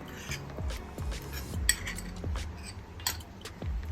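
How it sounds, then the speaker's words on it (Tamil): A spoon stirs cocoa and ragi flour into milk in a pot, making a series of close, quick metallic clinks and scrapes against the vessel in an irregular rhythm. "இந்த மாதிரி கைவிடாமல் மிக்ஸ் பண்ணிகிட்டே இருங்க"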